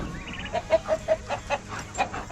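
Laying hens cluck in a rhythmic series of short, mid-pitched calls, with around ten clucks spaced evenly over a couple of seconds, close by and fairly clear over faint farmyard background.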